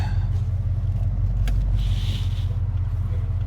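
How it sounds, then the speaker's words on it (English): A car drives past on a road outside, a loud, continuous low engine and tyre rumble building and fading over a few seconds, heard alone without talk. "And here comes a car."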